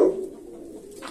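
A pigeon coos once, close and clear, in an aviary, a short low rolling call with faint background noise and no talk.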